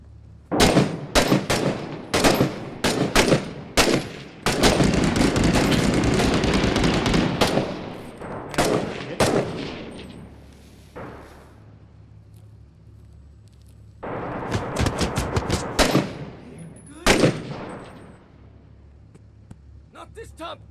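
Intense gunfire in the military shooter video game Six Days in Fallujah, with dense bursts of rifle shots, sustained automatic fire and sharp single cracks, loud and close, with players talking between volleys.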